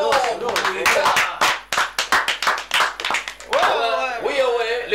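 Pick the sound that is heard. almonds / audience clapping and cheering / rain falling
audience clapping and cheering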